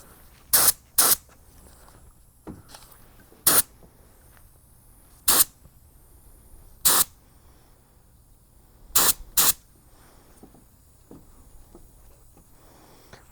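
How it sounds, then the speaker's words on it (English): A Harbor Freight Black Widow 2.0 spray gun spraying paint gives short, sharp hissing bursts, seven of them in irregular pairs and singles with quiet gaps between, close and fairly loud. "start painting the actual thing, because you want to see how the paint is coming out"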